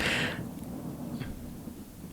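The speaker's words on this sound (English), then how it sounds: "That was thunder right there." Thunder from an outdoor storm: a short, bright crack at the start fades into a faint, low, distant rumble over steady background noise.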